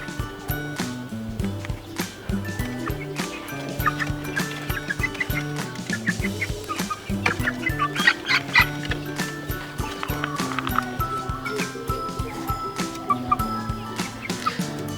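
Young Aseel Heera chickens about two and a half months old, two roosters and two hens, clucking steadily and close by over fifteen seconds, with busy overlapping calls and no talk.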